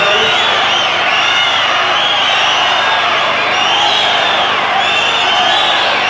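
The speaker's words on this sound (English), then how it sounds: "And you can hear the crowd going crazy. Cheering her on, cheering them all on" A dense, loud crowd at a 1993 European swimming championship roars and cheers continuously during a breaststroke race, with whoops rising above the sustained wash of noise.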